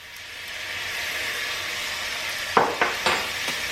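Garlic added to cabbage frying in a pan, a steady sizzle that builds, then a few sharp clanks and scrapes of stirring near the end, close and alone.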